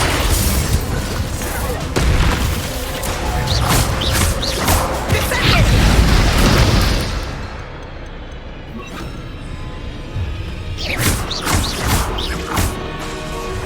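Bombarda spell explosions in the video game Hogwarts Legacy, a dense barrage of loud booming blasts and crashes over several seconds, then quieter before a few more hits near the end, with shouted voices in between.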